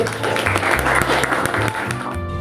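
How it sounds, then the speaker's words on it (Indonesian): Students clapping together in a school classroom, a dense steady patter of many hands at close range that fills the whole stretch, with some talk mixed underneath. "Tepuk tangan dulu."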